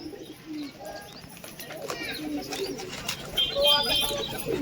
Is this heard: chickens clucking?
no